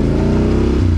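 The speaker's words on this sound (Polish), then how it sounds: "Sławas kupił sobie nowy wydech, musi zrecenzować go" A car engine fitted with a new exhaust revs loudly and close, a rough, throaty exhaust rumble with a pulsing low drone that shifts pitch near the end.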